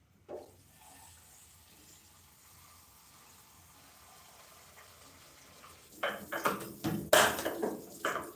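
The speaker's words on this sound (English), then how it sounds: "So I've soaked the coriander in water so that if there is any remaining sand particles" Tap water runs into a sink while coriander is being washed, staying faint and steady for most of the time before turning louder and splashy near the end.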